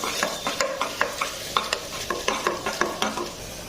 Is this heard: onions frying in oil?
yes